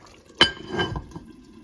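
Water is poured into a pot of Jaffna-style goat curry with potatoes: a sharp metallic clink, then a brief splashing gurgle of liquid that trails off into quiet.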